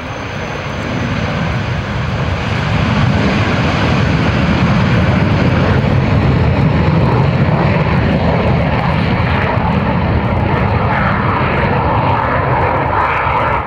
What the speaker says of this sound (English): It is, of course, the Canberra, and this was filmed at Runtingthorpe in South Leicestershire.